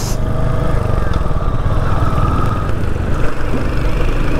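A 2022 Royal Enfield Hunter 350 motorcycle in Rebel Blue runs close by with a steady, loud low thumping exhaust that continues without a break.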